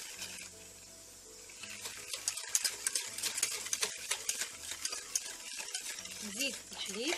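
Lemon cake batter being stirred in a bowl, a steady wet scraping and sloshing that continues throughout at moderate volume, with small clinks of the utensil and no talking.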